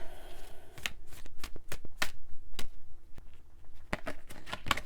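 Cards being shuffled in quick bursts of riffling flicks and slaps, close and crisp, with short pauses between, plus a brief murmur of talk.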